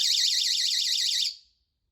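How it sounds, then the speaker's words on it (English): A 150-decibel pocket personal alarm shrieks with a piercing, rapidly warbling tone for just over a second, then cuts off sharply into silence. "This is one that's actually 150 decibels."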